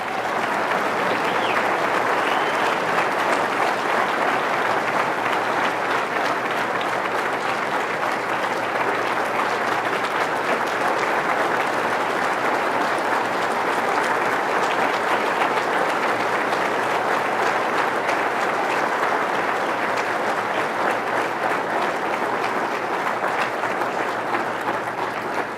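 Sustained, dense audience applause fills a convention hall after a keynote speech at a 2010 Saab owners convention, steady and loud throughout with no speech over it.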